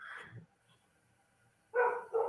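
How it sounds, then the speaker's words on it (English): Dogs bark at home, one sharp bark at the start, then a pause, then two more loud, close barks near the end. "my dogs are going to bark"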